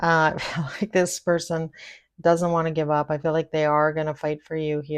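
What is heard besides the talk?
No everyday noise stands out behind the speech.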